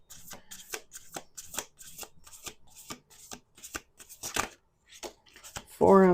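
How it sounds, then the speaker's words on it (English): Tarot cards being shuffled by hand, a run of quick crisp riffles and flicks in a quiet room, ending with a louder brush of cards. "We're going to do two more shuffles."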